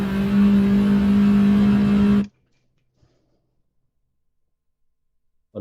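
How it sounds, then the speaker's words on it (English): Steady engine drone of a car in a racing video game, loud and continuous for about two seconds before cutting off abruptly to near silence. "he's saying your engine volume is a little too loud."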